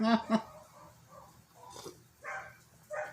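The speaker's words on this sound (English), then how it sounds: "my neighbor's dogs are barking" Neighbour's dogs barking outside through an open window, a few short yips and barks at a distance, mixed with a person talking nearby.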